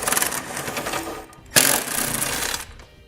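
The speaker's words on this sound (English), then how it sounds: "grab a 17mm socket so we can remove these 2 bolts" A 17mm socket working the bolts that hold a vehicle's tie-down hook during a Curt trailer hitch install, giving a steady close whirring and ratcheting with a sharp metallic burst partway through.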